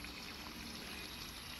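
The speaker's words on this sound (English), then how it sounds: "I do have water running in the background." Water from a garden hose runs steadily into a garden bed, a continuous soft splashing trickle with no voices.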